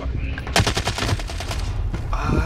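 Rapid automatic gunfire in the video game Warzone rattles off in a fast close burst of shots over a loud, busy game background.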